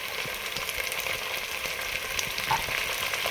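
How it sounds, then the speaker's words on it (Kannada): Chopped vegetables and tomato fry in a pan for vegetable pulao, a soft continuous sizzle with light crackles and occasional stirring scrapes, fairly quiet and close. "ಸೊ ಈ ರೀತಿಯಾಗಿ ಫ್ರೈ ಮಾಡಿ"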